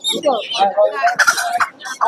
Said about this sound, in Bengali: এগুলো দিশি মুরগি দিশি মোরগ রয়েছে